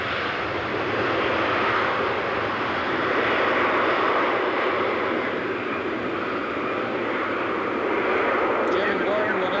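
An airplane flying at the 1986 Abbotsford International Airshow drones steadily and loudly for the whole stretch, a broad continuous engine roar with a voice speaking over it.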